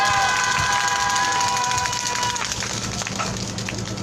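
A crowd at an outdoor Wednesday protest rally over the Japanese military sexual slavery issue applauds and cheers, a loud, broad wash of clapping that slowly fades, with a sustained tone and some voices mixed in.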